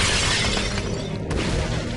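Stone shatters in the video game Darksiders 2, a dense crashing burst of breaking debris amid loud game noise, with a sharper crack near the middle.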